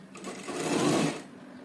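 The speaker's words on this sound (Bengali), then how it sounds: "সেলাই করব।" A sewing machine stitches fabric for a designed neckline in one short, close burst of whirring that swells and fades, with no voices.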